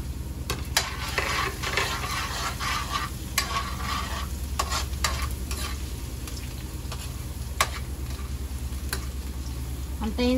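Garlic frying in a pan, a steady close sizzle with scraping stirs and occasional utensil taps against the pan throughout.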